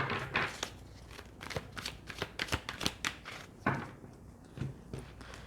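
Tarot cards being shuffled by hand in quick, crisp riffles and slaps, a steady run of close papery snaps repeating throughout without talk.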